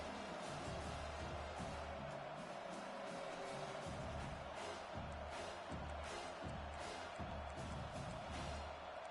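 A home crowd roars continuously in a football video game as the defense tries to get off the field on third down, a dense, steady wash of cheering with faint thumps beneath.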